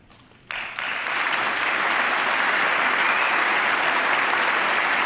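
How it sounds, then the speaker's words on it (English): Applause breaks out in a large chamber during a State of the Union address, starting abruptly after a quiet moment and swelling into sustained, loud, dense clapping from a big audience. "Some applause."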